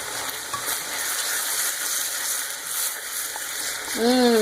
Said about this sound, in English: just let it saute for a minute or so before we add the meat